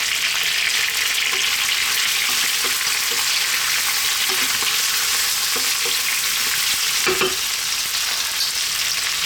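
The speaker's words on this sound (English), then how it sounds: "Now I'm going to chop in our onion. I'm using red onion and I've sliced it." Sliced red onion fries with chicken pieces in a pan over medium heat, a steady close sizzle and hiss running throughout with a few light stirring clicks and scrapes.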